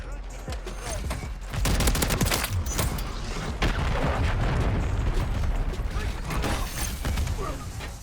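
Rapid gunfire and explosions from a Call of Duty MW3 match, including a Riveter shotgun, sound as dense, loud bursts over a continuous battle din, with voices talking in the mix.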